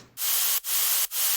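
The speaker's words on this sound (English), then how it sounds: "First of all, we have white noise." Loud, bright hiss of white noise in steady bursts, cutting off briefly twice in rhythm.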